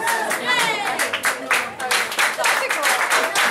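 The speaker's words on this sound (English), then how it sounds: "We'll clap all the other beats." Audience clapping in time on alternate beats of traditional Bulgarian folk music played by a folk ensemble at a pub, steady rhythmic claps close and loud, with voices over them.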